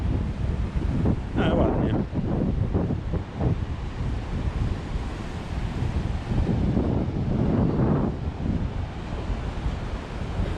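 Cool wind gusts steadily over a seaside beach at Hua Hin, Thailand, with surf rolling underneath; a continuous loud rush of wind noise while people talk over it.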